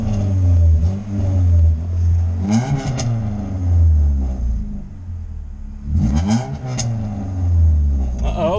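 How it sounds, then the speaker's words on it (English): The Project Defiant engine, on its second day of startup testing, revs up loudly in repeated surges, with rough rumbling idle between the pulls and sharp popping bursts near the tops of the revs. "Uh-oh, got some backfire."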